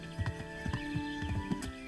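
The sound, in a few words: horse hooves clip-clop on road in Kingdom Come: Deliverance video game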